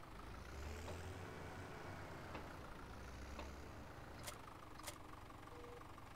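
An old Massey Ferguson tractor idles steadily in Farming Simulator 2017, a low continuous engine rumble running throughout at moderate level, with a few brief clicks over the top.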